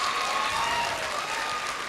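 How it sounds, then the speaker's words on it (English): Steady applause from a crowd at a graduation ceremony, dense and continuous clapping throughout with no pauses, fairly distant and even in loudness. "all of you should clap loudly for her"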